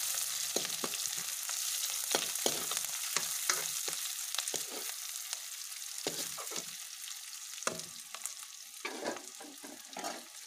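Onions frying in a pan until light brown, a continuous close hiss and crackle broken by repeated spoon scrapes and stirring knocks throughout, with no talk.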